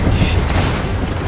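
Heavy ship cannon blast in Sea of Thieves, a loud deep boom rumbling through the short burst, close and dominant.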